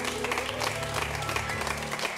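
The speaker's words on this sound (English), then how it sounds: "Give her a round of applause." A stand-up comedy audience claps continuously in dense, sustained applause, with a faint hum of voices underneath.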